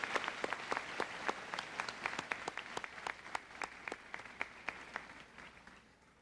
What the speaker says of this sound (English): Students, let's give our parents and relatives a round of applause.